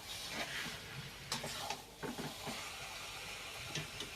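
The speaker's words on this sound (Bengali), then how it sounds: "এবারে আমি মাংসটা ভালো করে মশলার সাথে মিক্স করে নেব" Chicken pieces being stirred and fried with spices for a spinach chicken curry, giving a soft, steady sizzle with scraping spoon strokes and occasional louder clatters against the pan, no talk.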